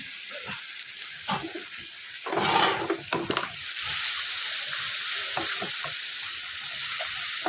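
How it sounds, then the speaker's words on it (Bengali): Water is poured into a hot pan of fried tomato, cumin, ginger and chilli paste for fish curry, a sharp hissing surge then a steady loud bubbling sizzle after spoon clatter, no talk. "এবার জল দিয়ে দেবো"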